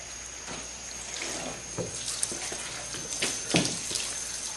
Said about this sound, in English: I'm gonna walk that water across this back window.